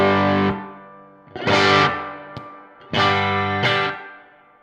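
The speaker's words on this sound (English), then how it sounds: "Let's go into the raw silk mode." Silktone guitar amp in raw silk mode, an electric guitar pushed through thick, saturated distortion: two pairs of loud sustained chord bursts with short gaps between, each pair ending in a fast-fading ring.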